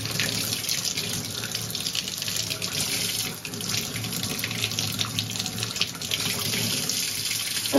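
Warm tap water runs steadily into a sink while a chalk paint brush gets its final rinse, a close, continuous splashing flow with slight surges and no voices.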